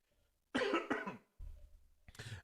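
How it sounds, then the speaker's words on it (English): A man coughs close to the mic in a quiet room: a harsh double cough, then a deeper throaty cough and a shorter final one spread over about two seconds, with no talk. "Man, this cough. I just got a cough all of a sudden."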